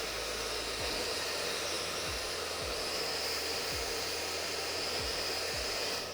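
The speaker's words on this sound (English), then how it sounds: "I'll take my Minerva blow dryer here, and I'm going to work the heat to actually lift my hair" Minerva blow dryer drying long hair runs steadily and loudly close by, a constant airy roar with a low motor hum and faint periodic pulses, no voices over it.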